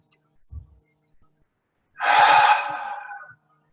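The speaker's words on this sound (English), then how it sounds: "Taking a deep breath in and letting it out." One slow, deep breathy exhale during a relaxing slow-flow yoga session, a soft airy sigh lasting over a second after faint rustles, close and quiet with no speech.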